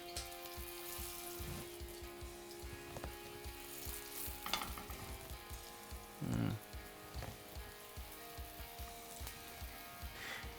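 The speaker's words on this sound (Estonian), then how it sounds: "ma praen siin edasi" Falafel sizzling and frying in a pan, a steady crackling hiss with bubbling oil throughout, a few louder spits and a brief clatter midway, no talk over it.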